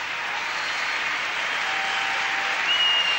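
Arena audience at a 1995 European figure skating championship giving an ovation after a women's programme, steady distant applause filling the hall with a faint whistle near the end.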